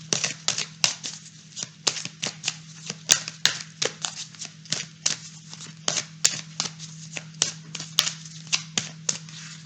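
A tarot deck being shuffled and handled up close in a quiet room, giving a long run of quick, irregular card snaps and riffles over a steady low hum, with no talking.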